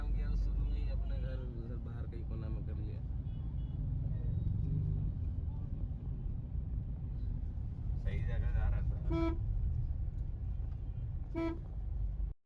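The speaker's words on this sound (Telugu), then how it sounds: "ట్రాఫిక్ మాత్రం చాలా ఎక్కువగా ఉంది" Dense road traffic in Ranchi, India, with trucks among the vehicles: a steady engine rumble runs throughout while several car horns toot and honk in short bursts, some overlapping, near and loud, with voices faintly underneath.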